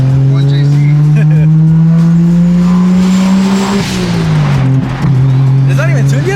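A car with an untuned 1JZ VVTi engine revs loudly and steadily, holding a strong droning tone before the revs fall with a few sharp pops, while people talk over it nearby.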